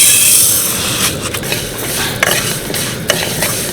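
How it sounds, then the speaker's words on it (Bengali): Medium-grain sago is dry-roasted in a dry wok, the pearls rattling and rasping as a spatula stirs them in repeated close scrapes and clicks. "এটাকে হালকা একটু ভেজে নেবো শুকনো কড়াইতে।"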